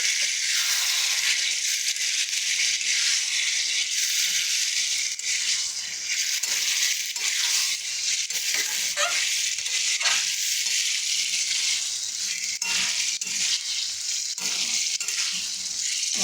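A spice paste fries in a pan for a long stretch, giving a constant bright sizzle with repeated scraping strokes of a spoon stirring it, close and fairly loud.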